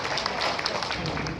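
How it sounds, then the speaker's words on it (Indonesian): Audience at a corporate awards gathering applauding honored team members, a dense patter of many hands clapping steadily at close range for over a second. "Tepuk tangan buat mereka semua"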